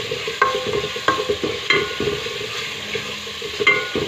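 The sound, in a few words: chana dal being roasted over a medium flame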